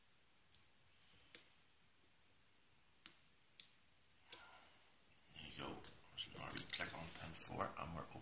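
An Abus Buffo 5-pin euro cylinder lock being picked, a few sparse faint clicks from the pins at uneven intervals, then a louder mix of metallic rattling and handling noise as the lock turns, with a voice talking.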